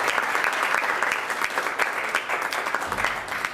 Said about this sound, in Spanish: Recibimos con un fuerte aplauso al maestro Rodolfo Ortiz Ortiz